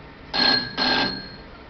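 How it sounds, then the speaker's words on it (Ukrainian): A start-of-work bell mounted on a sorting line rings in two short, loud bursts separated by a brief gap, with a faint steady hum underneath and no talk. "Також лінія, що вмонтовано дзвінок для розпочатку роботи."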